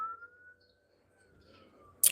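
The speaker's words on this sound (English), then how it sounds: "Can you hear what that siren is?" A distant emergency vehicle siren holds a faint, steady wailing tone that drifts slightly in pitch for about two seconds, ending in a brief loud burst of noise.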